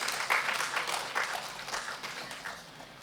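An audience at a food safety culture panel discussion claps in steady, moderate applause, heard from a distance and gradually tapering off.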